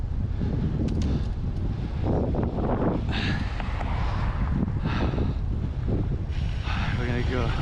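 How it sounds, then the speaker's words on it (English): Steady wind roars across a camera microphone while cycling along a sunny downtown Orlando bike path, a constant broadband rush with gusty swells and no talking. "Hoping we got enough wind here."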